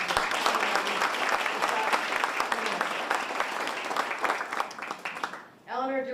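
An audience at a governor's maternal and infant health announcement breaks into sustained, loud applause that thins out and fades near the end, just before a voice begins speaking.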